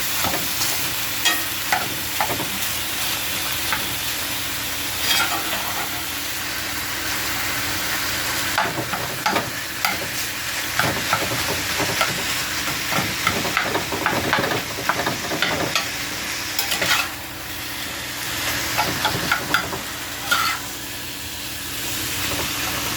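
Ground meat filling seasoned with garlic powder sizzles steadily in a pan while a utensil stirs and scrapes it with frequent irregular clicks and scuffs, close and with no talk.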